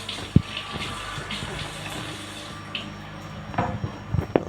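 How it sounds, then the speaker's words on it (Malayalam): Water running from a freshly opened tap on a washing machine inlet, a faint steady wash of flow with a few small clicks and knocks near the end. "ഞാനിപ്പോൾ ടാപ്പ് ഓണാക്കിയിട്ടുണ്ട്"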